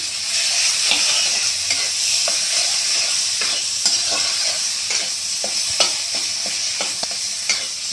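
Nigella seeds, turmeric and salt fry in a pan for a pointed gourd curry, making a loud, steady close-up sizzle broken by frequent crackles and light stirring scrapes, with nobody talking.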